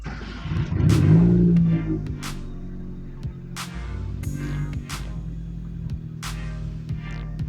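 A car engine cranks and catches around the one-second mark, surging briefly before settling into a steady idle, while the starter is being tested as part of diagnosing a starter problem.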